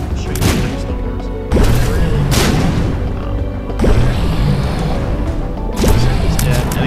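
A charged shot firing in the roguelike game The Binding of Isaac: loud, booming blasts repeat about every two seconds, four in all, each with a punchy onset and a rumbling tail over busy game noise.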